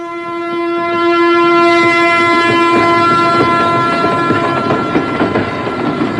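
A passing train on an Indian railway line, its horn sounding loudly as a long steady blast at the start, followed by rumbling carriages and rhythmic wheel clatter close by, with no talk.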